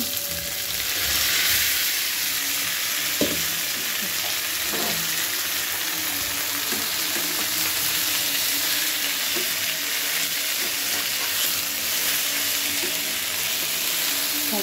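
Boiled, broken-up greens frying in a hot pan, a dense, even sizzle that carries steadily throughout, with a few faint knocks and scrapes from stirring, close and without talk.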